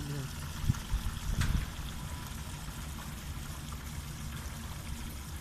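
Water runs steadily into a container on a farm as it fills, a continuous soft pouring trickle with a brief louder splash early on, heard alone at moderate distance.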